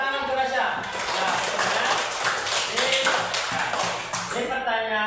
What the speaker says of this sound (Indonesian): Baik, tepuk tangan untuk Rasya